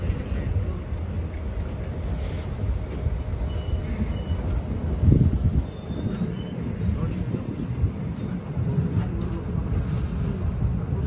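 A train pulls into Srinagar railway station in Kashmir, arriving from Banihal, with a steady low rumble of rolling cars. A brief louder surge rises midway before the sound settles back to a constant hum.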